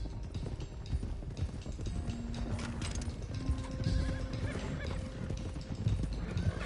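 A horse whinnies loudly in Red Dead Redemption 2 while hooves clop along, with game sound effects in the background.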